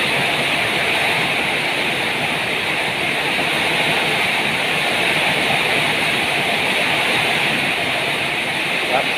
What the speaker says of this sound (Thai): ฝนตกแรงมากนะครับ ตกแรงมากเลยนะครับ